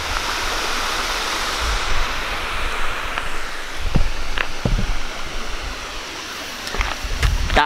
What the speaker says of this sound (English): Hear that river